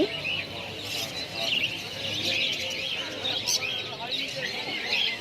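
Birds chirp and tweet continuously among a busy crowd at the Galiff Street pet market in Kolkata, with people talking in the background throughout.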